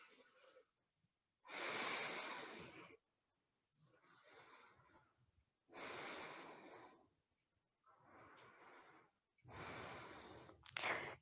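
Slow, deep yoga breaths during a stretch: four long, loud inhale-exhale bursts about a second each, separated by quiet pauses, close to the microphone with no talking.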